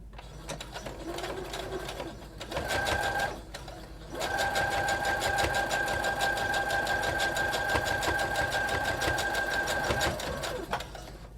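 Sewing machine straight stitching a lace mask with elastic, rapid regular needle chatter with a whirring motor hum in two bursts, a short run then a longer steady one after a pause, close and loud.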